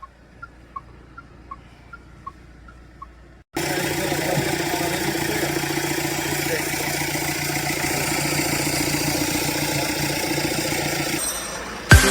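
A Mahindra Marazzo car, after a fuel injector fault repair, starts and settles into a steady idle following a few soft warning chimes, the engine noise close and even until a brief knock at the end.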